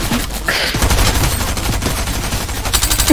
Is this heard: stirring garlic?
no